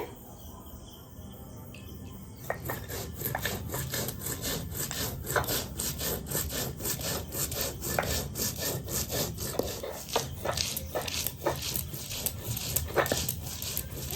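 White cumin is ground into paste on a grinding stone: after a quiet opening, a long run of rhythmic scraping strokes starts up and repeats steadily at close range, with no speech.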